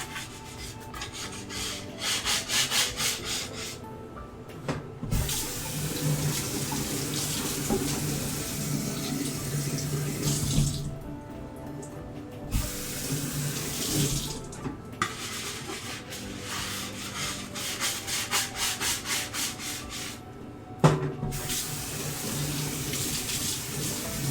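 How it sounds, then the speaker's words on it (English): A bowl is rinsed under a kitchen tap, with steady running water and scrubbing, rubbing sounds continuing for over twenty seconds, briefly interrupted by short pauses, with no talking. "I'll rinse this bowl"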